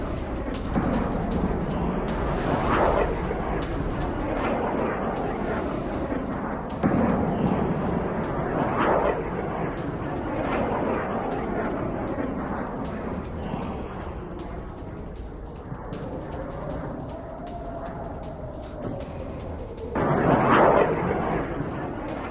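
A rocket barrage over Haifa with interceptions brings several dull, distant booms spread over a continuous outdoor rumble, plus a faint rising and falling whine near the end before a final louder burst.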